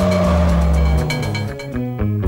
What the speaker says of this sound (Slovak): Najlepší jazdci Formule 1 testovali nový Fiat Stilo